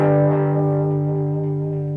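A single sustained electric guitar note driven through an overdriven amp, gritty and harmonically rich, ringing steadily and slowly fading, played alone and close.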